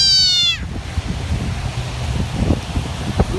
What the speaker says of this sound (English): I found a friend, Mr. Frog here, who meows just like a cat.